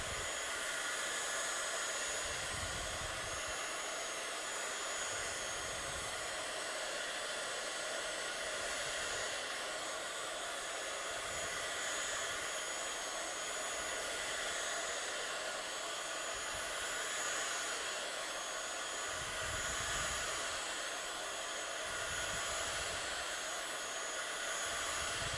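A hair dryer blowing to dry paint, a continuous close whooshing hum of air that holds steady throughout.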